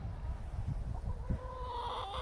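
Backyard chickens cluck in a low, uneven series of soft calls over steady background noise, heard at a moderate distance.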